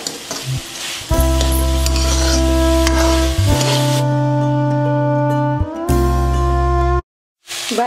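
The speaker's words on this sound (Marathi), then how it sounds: "परत याला 1-2 मिनिटं चांगलं परतून घेऊ" Vegetables seasoned with salt, black pepper powder and a spoon of sugar sauté in a pan for a winter soup, giving a loud, steady frying hum with occasional stirring that cuts off near the end.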